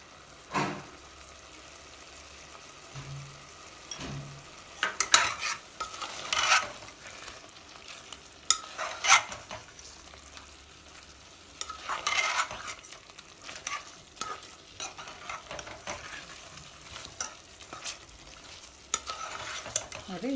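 Garam masala and spices frying in oil for Andhra-style chicken masala, soft sizzling under repeated scraping and clinking of a spoon stirring the pan, bursts of stirring spaced across a quiet background.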